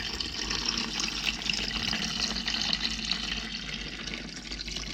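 Dole pineapple juice pours into a fish brine, a soft steady splashing stream of liquid running without pause, faint and close, with no talking.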